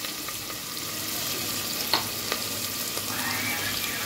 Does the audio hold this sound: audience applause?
no